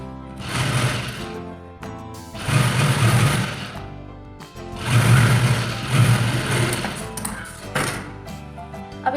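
Sewing machine stitching a ladies shirt, running loud and close in three long rattling bursts with brief pauses between them, no voices.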